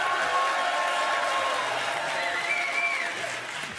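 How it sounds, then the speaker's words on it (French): A TV studio audience on a French game show breaks into dense, sustained applause that carries evenly and fades slightly toward the end. "Je voudrais qu'on applaudisse Amandine très très fort."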